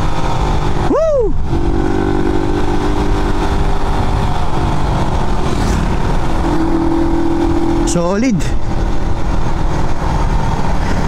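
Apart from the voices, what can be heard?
Raider 150 FI motorcycle engine revving then idling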